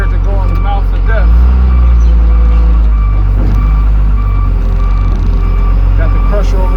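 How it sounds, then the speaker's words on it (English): A car crusher idles at a salvage yard as a deep, steady engine rumble, loud and close, while a vehicle's reversing beeps repeat over it and voices speak at times. "Got the crusher over there idling."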